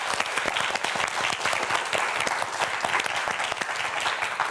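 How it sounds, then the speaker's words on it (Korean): A studio audience at a TV science quiz show claps for a student contestant, dense continuous applause from a crowd held at an even level for several seconds. "우리 홍석현 학생을 위해서 큰 박수 부탁드립니다."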